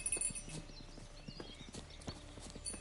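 A horse's hooves clip-clop in a steady walking rhythm in The Witcher 3: Wild Hunt, close and fairly quiet, with faint game ambience behind the footfalls.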